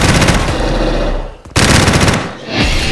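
Rapid automatic gunfire in a zombie video game, loud and continuous, breaking off for a moment before a second sustained burst.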